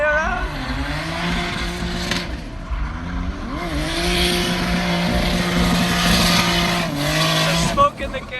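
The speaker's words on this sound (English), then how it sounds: "He's doing the drift the whole way around." A Nismo 370Z drifts the whole way around a track at a car show, its engine droning steadily at high revs and rising and falling with the throttle, with excited voices talking over it.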